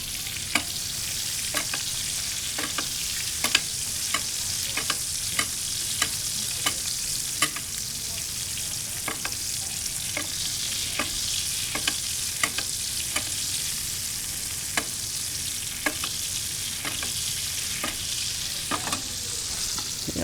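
Steak searing in a pan with garlic and butter, a continuous loud sizzle and spatter with regular scraping and stirring clicks from a utensil against the pan, no talking.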